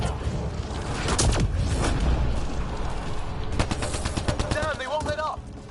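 Rapid video game gunfire rattles in dense, loud bursts, with machine-gun volleys stuttering through the second half while voices talk over it.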